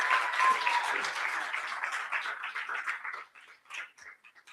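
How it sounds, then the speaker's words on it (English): An audience at a youth festival event claps hands in a dense round of applause that thins out and fades to scattered claps over several seconds. "Let's clap our hands."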